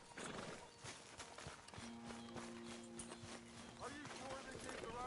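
A horse neighs while hooves clip-clop along amid busy outdoor ambience in the video game Warzone, with voices talking over it.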